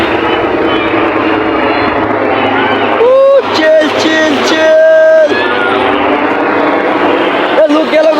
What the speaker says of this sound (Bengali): ওই যে হেলিকপ্টার, এই যে হেলিকপ্টার।